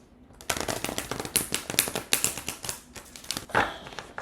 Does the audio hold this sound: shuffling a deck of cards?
yes